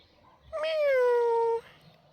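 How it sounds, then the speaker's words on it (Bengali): A single clear cat meow, drawn out for about a second, close by against quiet surroundings in uninhabited, forested Croatian countryside. "খুব কিউট একটা বিড়াল দেখা যাচ্ছে"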